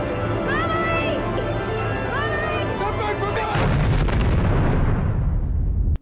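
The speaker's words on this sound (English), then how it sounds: "What? What exploded?" A deep explosion erupts midway through a scene in the film Interstellar, a sudden loud roaring boom that rumbles on after tense music and dialogue.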